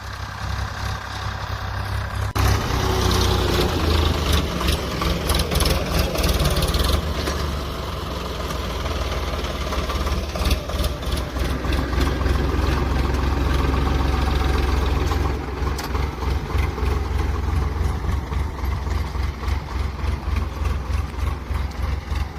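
A tractor engine chugs steadily for the whole stretch while cultivating between rows in a cotton field, with a low, continuous rumble and rattling mechanical clatter nearby.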